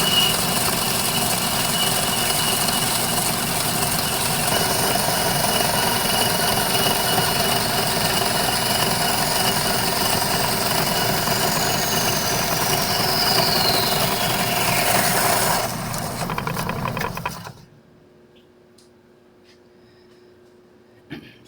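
A small, inexpensive bandsaw runs loud and steady, trimming off an unneeded section of a metal part for a lathe ball-turning attachment, then winds down and stops near the end, leaving quiet shop ambience.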